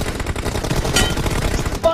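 Rapid machine gun fire in a team deathmatch video game, a dense continuous burst of loud shots filling the whole moment, with game voices mixed in underneath.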